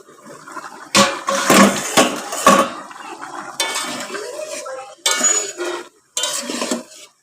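A spoon stirs meat curry in a home-kitchen pot, scraping and clattering against the metal in short, irregular bursts with brief pauses between strokes, close and fairly loud, with no talking.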